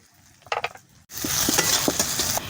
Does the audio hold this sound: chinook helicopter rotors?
no